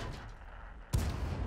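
A single heavy tank cannon shot in World of Tanks, a sharp loud boom at close range with a rumbling tail, rising out of a steady low battle drone.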